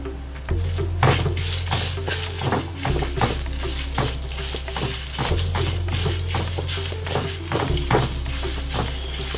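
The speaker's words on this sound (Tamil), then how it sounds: "ஸ்லோ ஃப்ளேமில் தான் வறுத்துட்டுருக்கேன்." Dried red chillies and curry leaves fry over a slow flame in a pan, with a low steady sizzle under frequent clinks and scrapes of a spoon stirring against metal.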